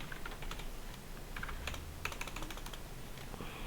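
Rapid clicking of keys on a computer keyboard as accounting entries are typed in, faint and steady in short bursts, no talk.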